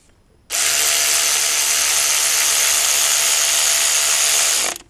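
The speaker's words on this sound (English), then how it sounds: "then use a speed drill" A speed drill whirs into a power steering pump bolt during work on an Acura TSX, one sustained high-pitched mechanical buzz lasting about four seconds, close and loud, starting and stopping abruptly with no talking.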